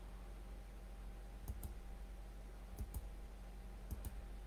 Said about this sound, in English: I'm gonna just click on the stuff that I don't want and it's gonna erase it.